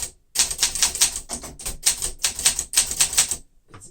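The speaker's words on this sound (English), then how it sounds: "typing on this machine feels like I'm typing moving downhill" Rapid, steady typing on a 1972 Olympia SM9 manual typewriter: a dense run of sharp, close key strikes with even rhythm, heard alone, ending in a brief pause and one last clack.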